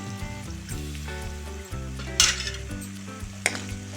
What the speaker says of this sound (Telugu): ఈ మసాలాలన్నీ బాగా ఫ్రై చేసుకోవాలి